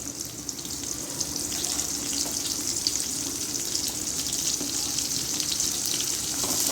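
Steady, close oil sizzle and crackle of green chilies frying, a continuous hiss with occasional light stirring, no voices.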